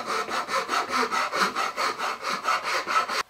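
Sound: file smoothing wood edges of an intarsia recipe box

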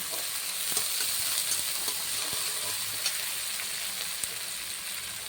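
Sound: chopped onion and ginger frying in pan

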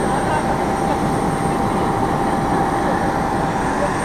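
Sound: KLM Cityhopper airplane departing for Amsterdam

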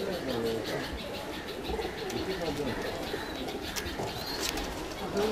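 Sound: Pakistani pigeons cooing

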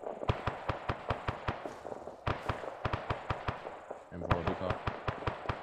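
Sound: enemy gunfire in the video game Arma 3

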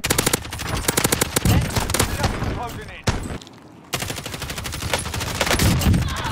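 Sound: gunfire in a video game

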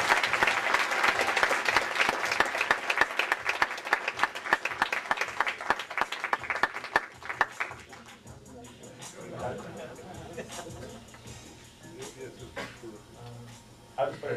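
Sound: audience applause for speaker Louis Lautman

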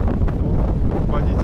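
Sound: strong wind on a ferry deck

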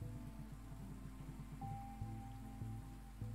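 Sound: rain falling in a video game

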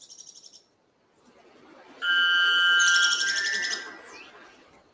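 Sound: forest birds singing: sabiá preto and araponga, constant wind

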